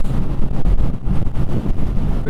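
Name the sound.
wind buffeting while riding a Yamaha XJR1300 motorcycle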